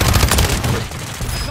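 Rapid video game gunfire from a Call of Duty match rattles loudly through the first part, then carries on more softly with scattered shots under a dense mix.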